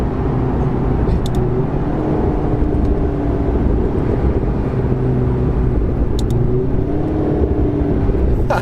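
A baby blue McLaren 650S Spider sports car drives along, its engine a loud, steady drone with gently shifting pitch as it cruises and revs, heard close from inside or alongside, with no talking.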